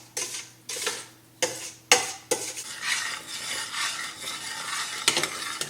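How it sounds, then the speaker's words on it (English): Spoon stirring a rhubarb mixture at a rolling boil in a pot, with several sharp scraping strokes followed by a continuous bubbling, sizzling hiss, close and clear. "You can see when I'm stirring, the boil is not going away, it is continuing to boil."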